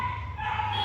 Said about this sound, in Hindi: कुत्ते भौंक रहे बाजू में वाले